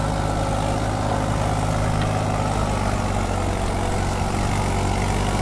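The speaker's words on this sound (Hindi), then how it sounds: "छोटा ट्रैक्टर है लेकिन रोटावेटर की खिंचाई बहुत बढ़िया कर रहा है।" A small Mahindra 265 XP Plus tractor pulling a Shaktiman rotavator in a field drones with a steady, loud, low engine rumble, unbroken and close by throughout.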